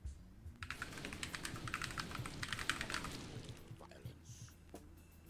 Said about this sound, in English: is the keyboard too soft?